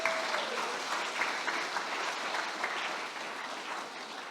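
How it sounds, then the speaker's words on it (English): Steady applause from a crowd at the launch of a Pacific and global health centre, honouring Sir Colin, with a dense, even patter of clapping that fades slightly toward the end. "let's give Sir Colin a big round of applause"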